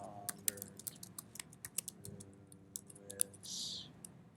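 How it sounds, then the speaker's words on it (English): Typing on a computer keyboard, a string of quick sharp key clicks in irregular bursts, fairly close, over a low background hum, with a short hiss near the end. "I'm going to type in Robert"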